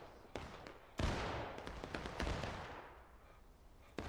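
Sporadic gunfire in a squad-based war game, sharp isolated shots and distant reports spaced irregularly over a few seconds, fairly faint with no talk.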